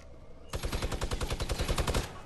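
Rapid automatic gunfire from Fortnite gameplay, a fast burst of about fifteen evenly spaced loud shots lasting under two seconds, starting abruptly after a quiet moment.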